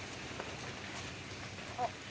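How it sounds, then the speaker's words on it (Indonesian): Steady rain hiss, a broad even wash of falling drops with a brief louder patter near the end. "kebetulan hujan nih"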